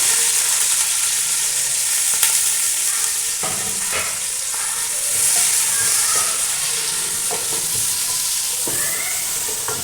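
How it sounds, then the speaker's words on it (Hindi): Onions browning in a cup of hot oil for aloo pulao make a loud, steady sizzle close up, broken by occasional stirring scrapes and clinks against the pot, with no voices. "प्याज को अच्छे से ब्राउन कर लेंगे इसके अंदर"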